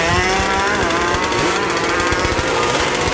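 Two-stroke KR150 motorcycle engine at a legal drag race, a loud, raspy, high-pitched whining drone held steadily throughout, with crackling chain-saw-like buzz and no talking.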